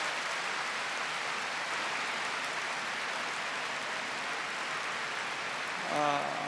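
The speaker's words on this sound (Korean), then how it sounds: "서로 축복의 박수를 하십시다." A large audience at a Love Sonata church gathering in Tokyo applauds in a dense, sustained wash of clapping that holds steady throughout, with a speaker's voice starting up over it near the end.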